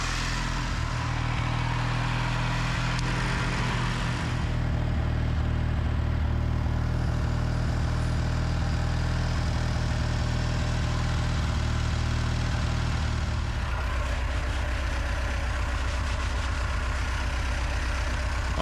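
The engine of an old car abandoned for about 30 years runs at a steady idle, a continuous close rumble that holds even for the whole stretch with only a slight shift in tone partway through.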